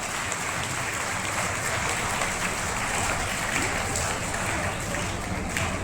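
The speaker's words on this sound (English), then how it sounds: "please start the program with a huge round of applause to everybody" Sustained applause from a large crowd at a school investiture ceremony, dense and steady clapping throughout with no pauses.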